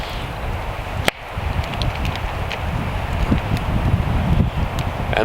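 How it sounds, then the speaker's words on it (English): Wind blowing steadily across a deep-snow winter bushcraft camp, a constant rough rushing with gusty swells and a sharp knock partway through, no talking. "And the wind decides to blow here and there."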